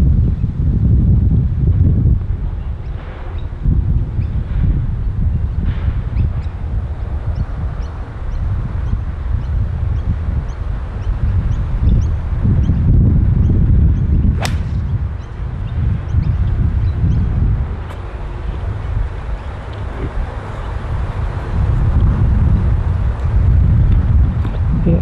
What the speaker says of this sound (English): Wind coming off the right, very strong.